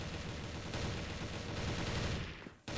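Dense, sustained gunfire fills a CrossFire competitive match, with rapid overlapping shots forming a continuous roar that dips briefly near the end.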